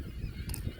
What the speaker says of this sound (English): So many seagulls.